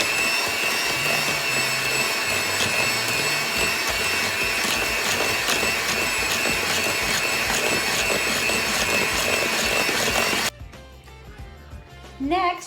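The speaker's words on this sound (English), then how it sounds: "we're gonna give that another mix with the mixer" Electric hand mixer whirring steadily through mashed bananas for banana bread, a loud continuous motor buzz with rattling beaters that runs for about ten seconds and then cuts off, leaving quieter kitchen noise.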